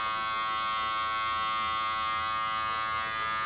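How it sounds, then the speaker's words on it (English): Electric hair clipper running close and steady, a loud constant buzz with a harmonic hum throughout while trimming small hairs along the sides in a low taper haircut. "We're going to take our clipper and turn it to the sides and split through all these little hairs."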